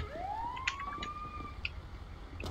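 A rising, wailing ambulance siren from the video game GTA 5 sweeps upward and holds a steady high tone, heard at moderate distance over a low rumble, with a few brief clicks and no speech.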